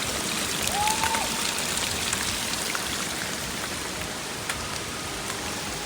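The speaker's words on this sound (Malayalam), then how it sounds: "ഇങ്ങോട്ട് വരുന്ന സമയത്ത് എങ്ങനെയായിരുന്നോ മഴ, അതേപോലെ തന്നെ ഇപ്പോഴും പെയ്തുകൊണ്ടിരിക്കുകയാണ്" Steady rain patters continuously in a soft, even hiss in a hill forest, with an occasional faint chirp-like tone early on.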